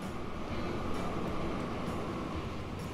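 A Crocodile electric locomotive from the game Transport Fever rumbles past with a loud, steady rolling roar and faint clicks of wheels, with no talk.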